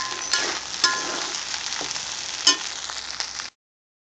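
Pulao being stirred and mixed in a hot pan, a steady close sizzle and frying hiss with soft scraping stir strokes and a few brief clinks, cutting off abruptly near the end.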